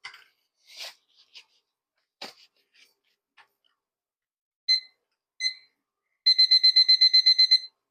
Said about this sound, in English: So we are going to set our timer.